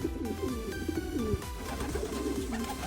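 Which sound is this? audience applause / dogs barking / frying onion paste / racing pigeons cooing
racing pigeons cooing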